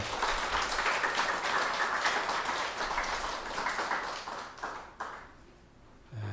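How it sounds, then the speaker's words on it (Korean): A church congregation at a Sunday service claps in dense, sustained applause that fills the room, then thins and fades near the end. "우리 하나님께 감사와 영광의 박수 올려드리겠습니다"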